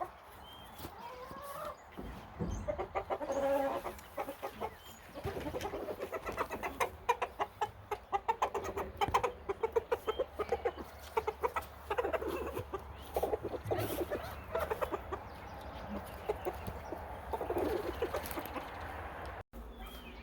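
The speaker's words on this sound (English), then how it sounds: "Now I'm going to let my chickens out of their coop." A flock of chickens clucking and cackling continuously for a long stretch, with some rustling and movement noises mixed in, at moderate volume.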